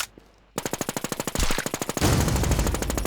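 Gunfire aimed at a car: a sudden burst of rapid automatic shots in an even rhythm, then a louder, denser stretch of continuous firing, close and harsh with no talk.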